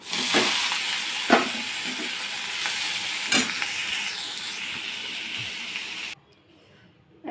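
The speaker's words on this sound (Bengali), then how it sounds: "ভাজা হয়ে গেছে এখন আমি শাক দিয়ে দেবো" Loud, steady sizzling of leafy greens, pumpkin greens, frying with garlic in a hot pan, with occasional scraping clicks of a spatula, then the frying sound cuts off abruptly near the end.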